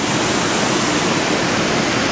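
A forest waterfall roars as a loud, dense and unbroken wash of rushing water, steady throughout and close by, with no voices.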